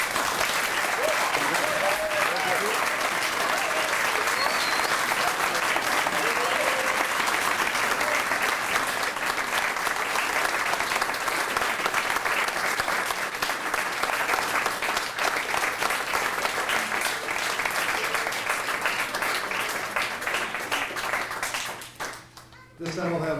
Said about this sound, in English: let's give each of these candidates a big round of applause